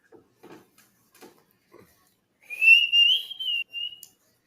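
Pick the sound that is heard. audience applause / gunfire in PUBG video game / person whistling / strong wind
person whistling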